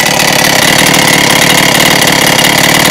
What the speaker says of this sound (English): Now it almost sounds like there's a little bit of engine knock.